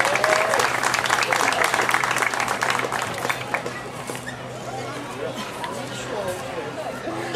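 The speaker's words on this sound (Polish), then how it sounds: "Brawa." Crowd applause at a sailing regatta award ceremony, steady clapping from many hands at close range that eases slightly in the second half, with faint chatter beneath.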